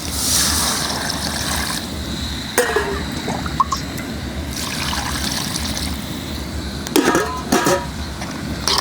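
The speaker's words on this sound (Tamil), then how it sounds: "இப்போ இந்த ரசத்துக்கு தேவையான தண்ணி ஆட் பண்ணிக்குவோம்." Water is poured into a pot of blue crab rasam in a home kitchen, giving a continuous watery trickle with a few brief clinks and knocks from the pot and utensils, close by and with no talking.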